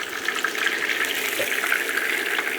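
A schnitzel sautéing in a frying pan gives off a steady, close sizzle, a continuous crackling hiss that holds even throughout with no talk over it.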